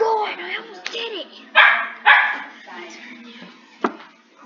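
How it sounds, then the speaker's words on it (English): A dog in the video game Speed Run 4 barks several times in short, sharp bursts with whimpering yips between, close and clear, while a person talks over it. "The dog's barking."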